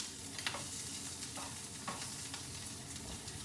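Prawns frying in olive oil in a pan, a steady soft sizzle with a few light taps and scrapes as they are turned and stood up, faint and close.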